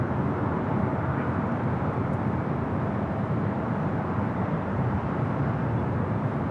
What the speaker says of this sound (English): Delta Airlines in the LA Olympics livery, flight 38 coming in from Shanghai, A350-900, 6 minutes out